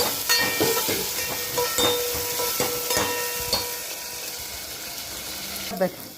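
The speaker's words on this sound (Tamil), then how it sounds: "இப்போ வெங்காயம் தக்காளி நல்லா வதக்கிக்கணும்" Onion and tomato sauté in a pan for sambar, a loud, close sizzling hiss broken by repeated clinks and scrapes of stirring that fade toward the end.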